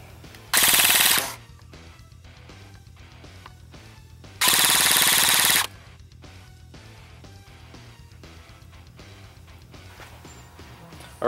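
An electric airsoft gun with an upgraded motor fires two loud full-auto bursts at a chrono station, each lasting about a second, separated by quieter background noise.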